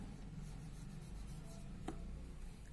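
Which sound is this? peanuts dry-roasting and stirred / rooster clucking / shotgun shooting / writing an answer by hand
writing an answer by hand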